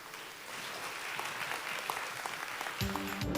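A lecture hall audience gives sustained applause as a professor is welcomed to a science talk on light. The even, dense clapping holds throughout and ends with a low thump.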